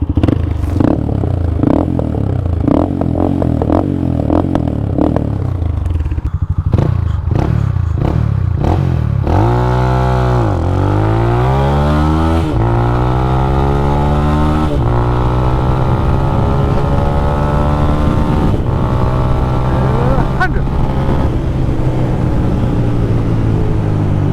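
A Yamaha Scorpio 225 motorcycle launches hard and accelerates, its engine note climbing steadily, dropping briefly at quick gear shifts and then rising again, loud and close throughout with no talking.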